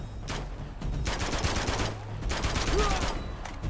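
Rapid gunfire in the Uncharted 2 video game, set in Borneo, crackles in repeated bursts of automatic shots over a steady low rumble, moderately loud throughout.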